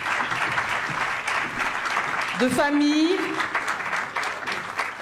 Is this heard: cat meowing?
no